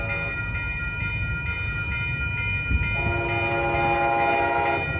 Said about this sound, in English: here comes Amtrak Coast Starlight train number 11